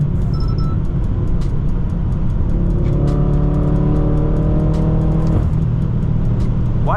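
A Stage 2 tuned 800 hp BMW M6 revs hard under acceleration, its engine note climbing steadily before a downshift, loud and close from inside the car with no talking.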